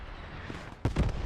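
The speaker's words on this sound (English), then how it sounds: "TJ calling in some German artillery, getting a couple of friendly kills" German artillery lands in a World War II video game, a sudden loud blast that breaks a low rumble near the end, followed by a short rolling echo.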